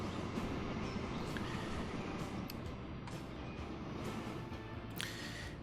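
A train pulling in within the railway simulation game Transport Fever, a steady low rumble of rolling wagons with a few faint high squeals, moderate and continuous with no talking.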